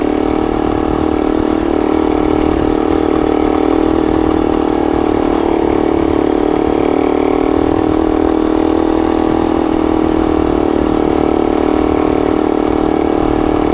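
A motorcycle engine climbs a rough, rutted rocky dirt road in second or third gear, holding a steady, loud mid-pitched drone with a slightly rising throttle for the whole stretch.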